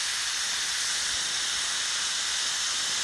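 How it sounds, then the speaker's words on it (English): Steam vents from a pressure cooker in a loud, continuous, close hiss that holds steady throughout without pause. "We'll just let all that steam come out."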